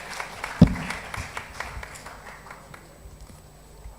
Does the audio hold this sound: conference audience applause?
yes